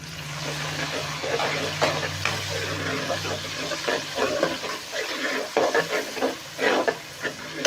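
Onions drop into hot masala frying for eggplant biryani, raising a loud, close sizzle and hiss broken by bursts of stirring and scraping in the pan.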